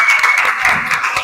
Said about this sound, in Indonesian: tepuk tangan untuk kelas 8